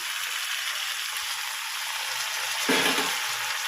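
Meat frying in a pan with chili, soy and tomato sauces, a dense continuous sizzle close by and steady in level, with a brief louder hiss near the end as more is added or stirred.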